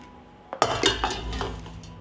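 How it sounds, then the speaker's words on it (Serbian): Glass jars set into a pot lined with a cloth, a few quick muffled clinks and knocks in close succession, nearby and fairly quiet. "Na dno šerpe stavljam krpu i unutra ređam tegle."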